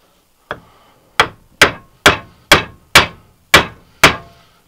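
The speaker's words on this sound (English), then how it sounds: "get it nice and tight in the vise with a couple of taps from the mallet again" A mallet taps a control arm bushing tool held in a bench vise on a BMW E36 suspension part: one lighter knock, then seven sharp, evenly spaced metallic strikes, loud and close, with no talking.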